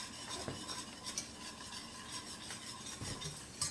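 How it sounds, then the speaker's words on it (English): Potato gratin mixture stirred in a pot, a quiet, steady scraping and swishing with soft clinks and a faint simmering hiss underneath, no voices. "I'm going to start stirring it around."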